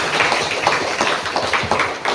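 A crowd claps for a company founder at an event, a dense, steady patter of many hands close by, continuous through the short stretch.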